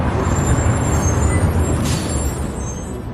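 A bus pulls up with a loud hiss of air brakes over a low, rumbling engine and traffic noise, steady and close, with no talk.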